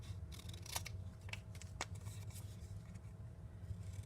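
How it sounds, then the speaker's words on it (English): Scissors snipping along the fold of paper for a children's collage craft, a handful of sharp, brief cuts in an irregular rhythm, close and fairly quiet over a steady low hum, with no talking. "we will take our scissors and cut where we have folded the paper"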